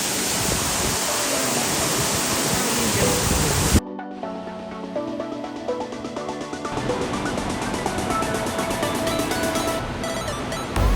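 A waterfall at a resort in Ubud, Bali, its steady broadband roar loud and continuous at first, then dropping away abruptly to a quieter, busier mix of rushing water and surrounding sounds.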